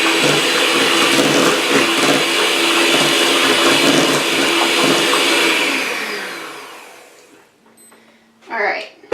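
An electric mixer whirs loudly and steadily through persimmon pudding batter in a bowl, then winds down and stops. A short burst of speech follows in the quiet.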